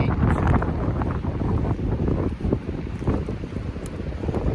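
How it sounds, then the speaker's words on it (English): Strong wind buffeting the microphone outdoors in the Scottish countryside, a loud, continuous roaring rush with gusty surges and no talking. "The wind is fucking amazing."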